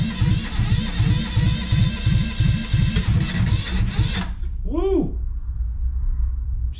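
A 2-cylinder Perkins diesel engine cranking after the glow plugs are heated, a loud rhythmic starter churn for about four seconds that then cuts off, leaving a brief whirring tone.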